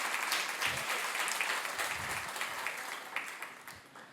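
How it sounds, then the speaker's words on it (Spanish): A church congregation claps to welcome a visitor, a brief burst of steady applause that gradually thins and fades toward the end, with no voices over it. "pueden aplaudirle para darle la bienvenida"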